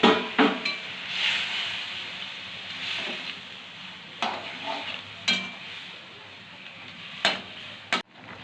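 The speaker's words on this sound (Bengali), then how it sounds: "এখানে হচ্ছে কালো জিরা ফোড়ন দিয়েছে মাছগুলো।" Prawns fry in hot oil with black cumin tempering, a steady hissing sizzle broken by several sharp clanks and stirring knocks against the pan.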